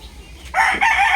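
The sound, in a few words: Classic White Kelso gamecock rooster crowing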